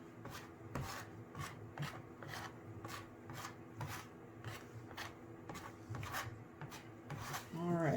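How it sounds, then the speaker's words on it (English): Palette knife spreading textured acrylic paint on a canvas in up-and-down strokes, a repeated soft scraping rasp at a steady rhythm, close and fairly quiet. "I'm using my palette knife in an up and down formation here"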